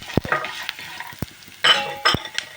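Dry coconut and tamarind fry in a pan over low flame with a soft sizzle, broken by several sharp scrapes and clacks of a spoon stirring against the pan, close and without talk.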